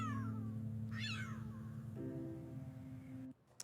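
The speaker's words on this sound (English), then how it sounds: "he opened his mouth and it meowed" A cat's meow, dubbed into an AI-generated clip styled like Ring doorbell camera footage, rises briefly over a steady low electronic hum with a tonal drone; faint and muffled, no speech, cutting off abruptly near the end.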